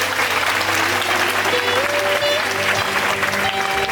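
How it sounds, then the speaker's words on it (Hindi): At a bishop's consecration service, a congregation claps their hands in a sustained, crowded burst of applause, with faint tonal sounds humming underneath. "Clap your hands."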